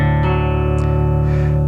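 A Fender Bass VI played on its neck pickup alone through a clean Roland Jazz Chorus amp model, a sustained low note ringing with rich, steady overtones, loud and close.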